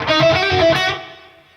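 A short distorted electric guitar lick, a quick run of sustained notes that rings out and fades over the last half second, with no talking.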